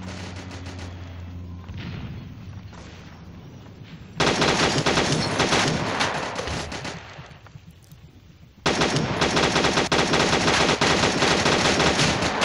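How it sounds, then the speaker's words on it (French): Rapid automatic gunfire in a video game, loud and sustained in long continuous bursts with brief quieter gaps between them, and no speech over it. "rate pas tes balles, Timéo"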